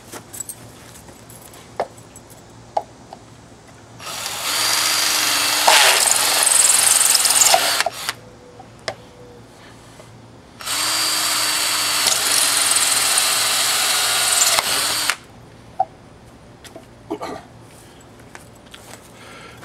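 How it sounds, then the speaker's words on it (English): A power drill bores holes into a small workbench in two sustained bursts of roughly four seconds each, loud and close, with faint clicks and quiet gaps around them. "So now let's drill some holes."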